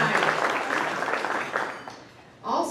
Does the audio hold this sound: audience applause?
yes